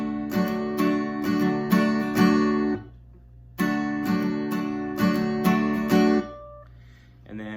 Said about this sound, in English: And so the strumming will go.